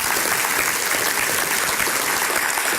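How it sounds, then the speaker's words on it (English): Loud, dense applause from a breakfast gathering honoring chamber ambassadors, a continuous close roar of many hands clapping at once with no break. "Let's give those folks a big round of applause this morning"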